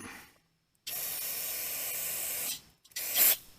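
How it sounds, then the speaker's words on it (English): Gumout cleaner sprays onto fuel injectors from a 1979 Chevy Camaro with an LS swap. A long, close hissing burst runs for nearly two seconds, then a shorter second spray follows after a brief pause. "Now, I'm going to take some, I'm using gum out."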